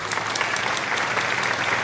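Children applaud together in a classroom, a dense, steady wash of clapping that stays even and fairly loud throughout, with no talk over it.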